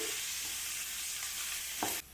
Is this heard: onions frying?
yes